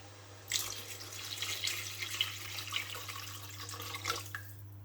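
Water pours from a cup into a soup pot of mushroom soup with vegetable stock. A splashing, trickling stream runs for about four seconds, then stops, over a low steady background hum.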